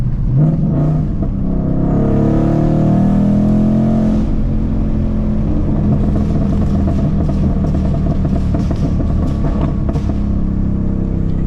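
A supercharged 2024 Ford Mustang GT revs up loudly and close, its engine note climbing, then drops off into a rapid stream of crackling exhaust pops and burbles that continue steadily.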